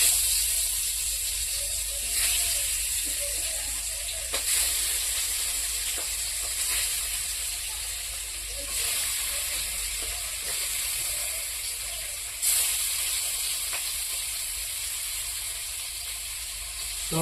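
Fish frying in hot oil gives a steady, loud sizzle and hiss for the whole stretch, with occasional sharper crackles and spatters from the pan.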